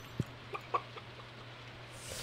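Chickens in a Stardew Valley farm game giving a few soft, brief clucks in the first second, faint over a low steady background hum with no speech.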